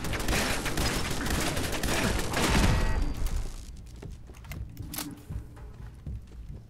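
Automatic turret gunfire in Fallout 4, a dense, loud burst of rapid shots for about three seconds that then cuts off, leaving quieter scattered clatter and a few isolated pops.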